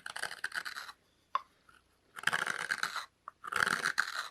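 A spoon knife carving dry sycamore wood, three separate bursts of crisp scraping and shaving strokes with short quiet pauses and small clicks between them, close and fairly faint.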